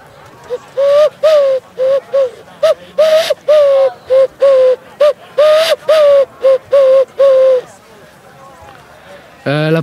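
A person imitates a wood pigeon with a voice, giving a long series of short, evenly spaced hooting calls, loud and close, then breaking off with a brief vocal sound at the end.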